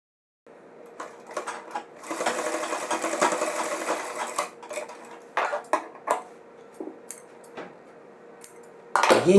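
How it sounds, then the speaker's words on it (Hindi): An electric sewing machine stitches a belt onto a pajama in short bursts of rapid mechanical whirring, with pauses and light handling clicks between runs. "और ये बराबर करके पहले आप यहाँ तक थोड़ी सी सिलाई लगा लीजिए, ताकि आपको बाद में दिक्कत ना आए"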